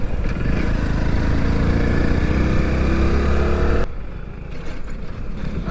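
A Hero Passion Plus 100cc motorcycle with a disc brake runs with a loud, steady droning rumble that drops off abruptly near the end, leaving a quieter, rougher idle-like sound.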